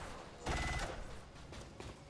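A quick burst of rapid gunfire in XCOM 2, loud and sharp, followed by quieter background game noise.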